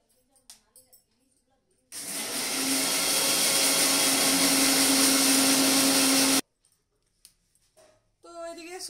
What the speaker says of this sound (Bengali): তো এদিকে সরষে পোস্ত বাটা হয়ে গেছে